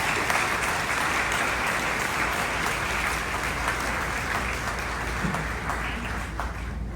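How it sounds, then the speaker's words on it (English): At a school graduation, a large crowd gives dense, sustained applause for the school staff, loud and steady throughout with no pause. "So if we could have a round of applause for all those folks"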